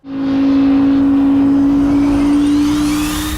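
A 2022 Audi R8 Coupe V10 Performance RWD engine roars loudly and steadily at high revs with a sustained tonal whine, slowly rising in pitch, close and intense.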